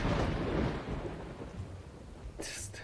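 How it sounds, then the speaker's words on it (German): Rolling thunder rumbles heavily through a storm in the video game Dawn of Man, a long low roar that fades, then a sharp crackling lightning strike near the end over steady rain. "Das ist der Donner und Blitz"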